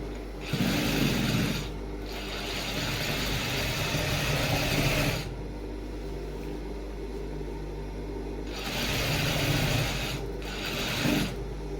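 A sewing machine stitching the folded hem of a shirt runs in long, steady mechanical bursts with brief pauses between them, loud and close.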